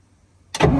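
An Alvis Stalwart military truck engine, long out of use, cranks and fires into a loud, rough roar after a stretch of near silence. The burst comes in suddenly partway through and holds strong to the end.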